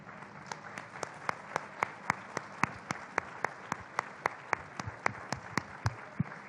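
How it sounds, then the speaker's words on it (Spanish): Audience applause at a book presentation in a tent, a steady run of evenly spaced claps from a fairly small crowd, moderately close and free of talk throughout. "Aplausos y nos vamos."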